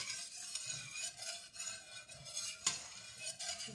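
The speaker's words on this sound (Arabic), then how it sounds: "هنا غادي نحركو مزيان" A spoon stirs a banana juice mixture in a cooking pot, making soft, repeated scraping and swishing strokes close up, faint and steady with occasional light clinks.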